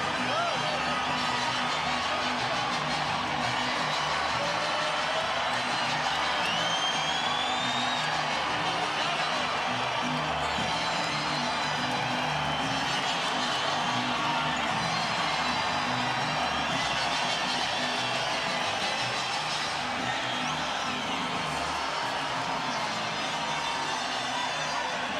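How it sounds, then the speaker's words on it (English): A boxing-match crowd at Pacman vs Morales roars in a steady, sustained wall of cheering and whoops, with a commentator's voice speaking over the noise throughout. "The crowd erupts"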